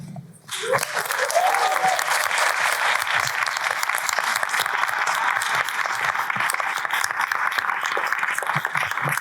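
An auditorium audience at a research awards event breaks into loud, sustained applause for volunteers, dense clapping that starts suddenly after a brief voice and carries on steadily to the end.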